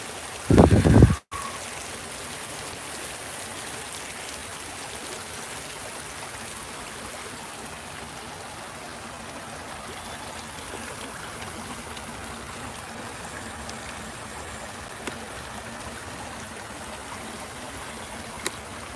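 Steady outdoor stream of flowing water, a continuous soft rushing and trickling that holds evenly throughout after a brief louder knock near the start.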